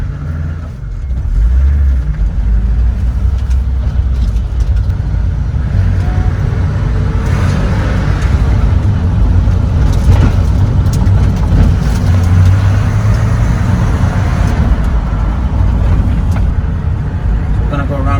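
BMW E30 driving slowly toward a house, a steady low engine and road rumble running throughout at close range with no break.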